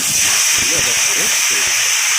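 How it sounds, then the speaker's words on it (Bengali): Whole cumin seeds sizzle in hot oil in a kadai, a loud, steady hiss running through the whole moment while a voice talks over it. "এবার কড়াইতে তেল দিয়ে তার মধ্যে গোটা জিরে দিয়ে দিলাম"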